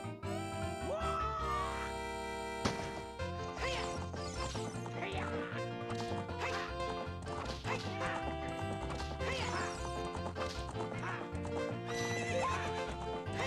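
Galloping hooves clip-clop steadily while a horse whinnies during a horse race in a Zelda video game, over busy, loud game music.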